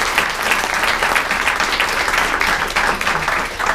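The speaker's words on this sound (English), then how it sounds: "can I please have a great big round of applause for Thierry?" An audience at a technical conference session gives a round of applause: continuous, full clapping throughout, fairly loud and even.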